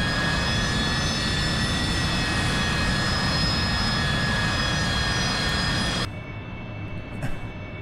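An AV-8B Harrier II jet in DCS World comes down in a vertical landing, its engine a loud, steady roar topped by high whining tones that suddenly drops to a quieter rumble near the end.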